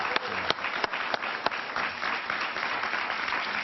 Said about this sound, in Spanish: un aplauso para Iván Duque, por favor.